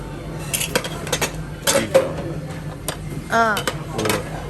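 Plates and cutlery are stacked and put away after a meal at a Tokyo hotel, with sharp ceramic clinks and clatters in irregular bursts, close by, as people speak nearby.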